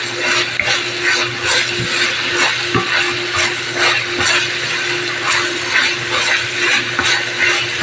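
Beef browning in a pan for spaghetti sauce gives a steady, close sizzle with crackling pops, running without pause and with no talk.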